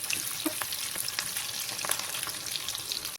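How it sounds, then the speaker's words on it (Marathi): Sliced onion fries in a pan for paneer masala, giving a close, continuous crackling sizzle with small pops throughout, heard alone. "आपला एक कांदा आता लालसर भाजू द्यायचा मस्त असा"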